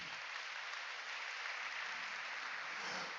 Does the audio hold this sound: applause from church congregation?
yes